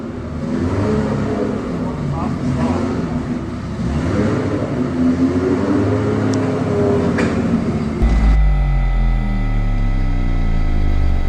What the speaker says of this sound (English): So last up was the cars doing their thing, racing around.